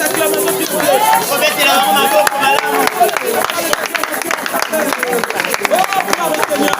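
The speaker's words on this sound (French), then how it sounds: "Encouragez-les par les acclamations s'il vous plaît" A crowd cheers and applauds at an outdoor evangelism campaign gathering in Boma, with a dense, continuous wash of voices and clapping that stays loud throughout and has no pauses.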